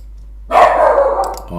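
A dog lets out a loud, close bark that starts abruptly after a moment of quiet and trails off into a drawn-out yelping tail, with no one speaking.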